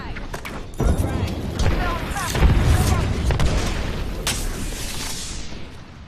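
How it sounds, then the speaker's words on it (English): A frag grenade goes off in a video game firefight, a deep booming blast swelling mid-clip amid scattered shots and rumble, loud and near, with voices talking over the din. "Throwing frag."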